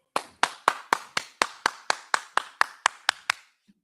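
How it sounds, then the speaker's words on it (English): An audience claps in unison with about thirteen sharp, evenly spaced claps over a few seconds, close and clear, ending in quiet. "Clap it up."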